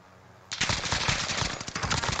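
Sudden, loud, sustained automatic gunfire in Call of Duty Warzone, a fast burst of shots that starts abruptly after near silence and keeps hammering steadily to the end.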